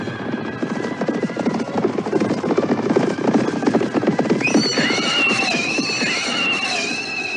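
Horses of a cavalry troop halting before a closed city gate neighing, shrill whinnies rising over a dense rumbling, buzzing background of hooves and movement in an audio drama.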